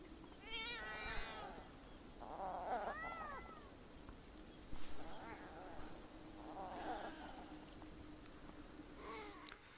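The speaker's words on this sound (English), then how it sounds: "you realise that you've been following a cat sound all the way through this village" Repeated cat meows from the video game Beyond Eyes, several separate plaintive cries spaced over ten seconds against a steady ambient game background, fairly close and clear.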